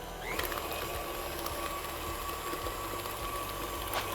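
An electric mixer runs steadily, combining gingersnap cookie dough with eggs in a bowl, a continuous whirring hum with faint rattling, heard alone at moderate level.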